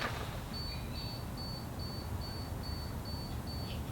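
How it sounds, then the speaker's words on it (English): Rocket flight computer at startup giving a series of short, high, evenly spaced electronic beeps, faint over a steady background hiss with no talking. "the two additional beeps are for the two additional igniters"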